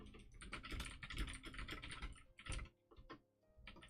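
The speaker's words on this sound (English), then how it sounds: "Keyboard sounds very good." Rapid clicky typing on a Redragon mechanical keyboard with blue switches, close and fairly quiet, in dense bursts with brief pauses between.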